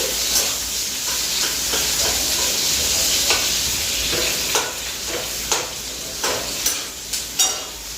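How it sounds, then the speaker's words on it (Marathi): Chopped onion frying in hot oil for chole, a steady loud sizzle with stirring scrapes and soft pops recurring throughout, with no voices. "आता तेलामध्ये थोडासा फ्राय करून घेते मस्तपैकी"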